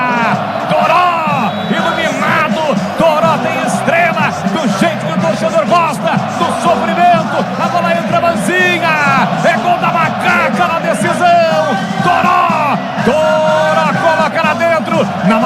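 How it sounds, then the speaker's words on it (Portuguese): Football fans celebrate a goal in a title-deciding match, a loud, continuous crowd roar with cheers and whoops, overlaid by an excited commentator talking throughout. "a macacada faz a festa, pula, sai do chão e vibra a macacada"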